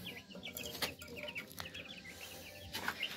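Chickens and chicks cluck and peep together in a coop at feeding and watering time, a busy overlapping chorus of short calls close by with no talking.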